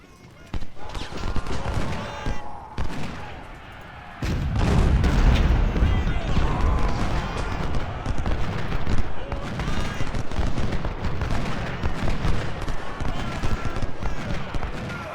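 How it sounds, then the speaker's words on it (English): Battlefield gunfire and artillery in the Civil War strategy game Ultimate General: Civil War, with dense rolling musket volleys and heavy booms that swell into a continuous loud barrage. "Open fire at them."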